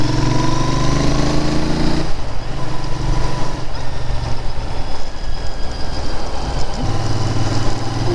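A Royal Enfield Interceptor 650 engine drones loudly while riding, its pitch dropping as the revs fall midway and then rising again near the end, with constant road and wind noise throughout.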